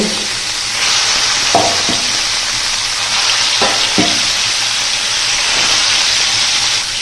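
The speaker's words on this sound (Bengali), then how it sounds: "মাছটি কড়া করে ভাজা করে নিব।" Fish fillets, lightly salted, fry in hot oil for a curry, giving a loud, continuous sizzle with a few brief clacks of stirring.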